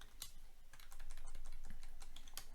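Arduino code being typed on a computer keyboard, a quiet, close run of rapid uneven key clicks with a few sharper taps, played alone without speech.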